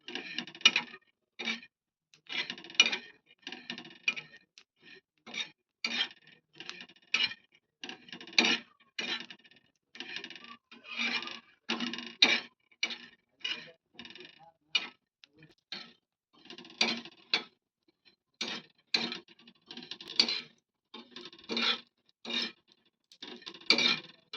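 Dry homegrown coconut roasting in a pan, stirred by hand, gives close, distinct rhythmic scraping strokes, dozens in a row with short quiet gaps between them, over a silent background.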